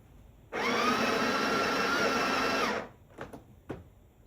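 A Breville Barista Touch Impress BES881 espresso machine grinding coffee beans at grind size 16, one loud, steady whirring burst of about two seconds that cuts off abruptly and is followed by a few faint clicks.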